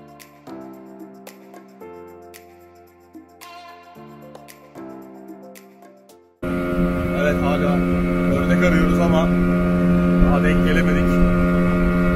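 A boat motor drones steadily and loudly while riding aboard a boat on a duck-hunting trip, wind noise mixed in; it cuts in abruptly halfway through after a stretch of music.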